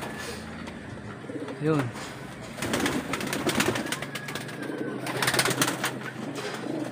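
Racing pigeons in a loft coo and flutter close by, with soft cooing bursts and wing rustles under a voice speaking intermittently.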